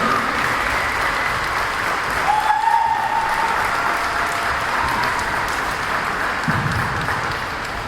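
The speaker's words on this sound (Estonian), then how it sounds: "suur aplaus." An audience at a skating school's season-end performance applauds steadily, a dense wash of clapping that holds evenly throughout without voices.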